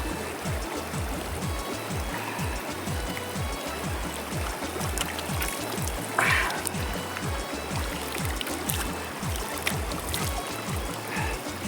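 A mountain river runs steadily close by, a continuous rushing, trickling flow with brief splashes as someone drinks from it and washes their face.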